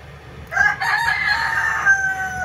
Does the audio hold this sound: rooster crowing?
yes